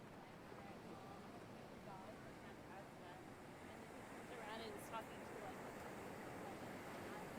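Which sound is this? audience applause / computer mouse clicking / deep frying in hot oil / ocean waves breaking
ocean waves breaking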